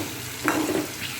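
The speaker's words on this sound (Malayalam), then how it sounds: "ഇത് നന്നായിട്ട് ഇളക്കിയെടുക്കാം" Breadfruit chips frying and sizzling in a pan, stirred once with a short scrape and rustle of the slices over a steady hiss, heard up close.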